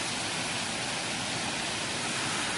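Water wheel turning at an old mill, heard as a steady, loud, broadband rush of falling and churning water with no distinct rhythm, filling the whole moment without any voices.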